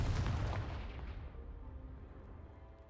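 A booming fire-blast spell goes off in the Hogwarts Legacy video game, a single loud explosive burst at the start that rumbles and decays over about three seconds, alone without talk.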